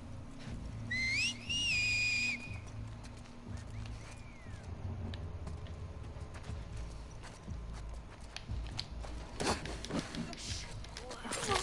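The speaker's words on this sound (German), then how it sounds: "Die pfeifen wahrscheinlich, um zu gucken, ist da jetzt noch jemand oder nicht?" Enemies in The Last of Us Part 2 whistle to signal each other, a clear rising whistle near the start over low game ambience and footstep-like clatter, with fainter sounds later.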